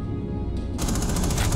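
Rapid gunfire in Rainbow Six Siege, a dense continuous burst of automatic shots that grows louder and fuller midway and carries on to the end, with no talking over it.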